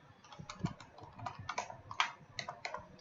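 Code being typed on a computer keyboard for an Android app, a quick, uneven run of close, crisp key clicks with a few harder taps, alone without talk.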